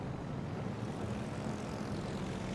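Carrier aircraft fly overhead in a World of Warships Legends naval battle, a steady, unbroken engine drone that holds at an even level for the whole stretch with no voices over it.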